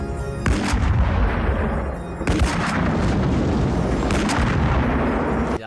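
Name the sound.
gunfire in RoboCop (1987) film shootout scene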